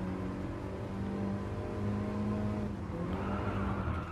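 Several cars race in Gran Turismo Sport, a steady, close engine drone with shifting pitch as revs rise and fall, continuous throughout without voices.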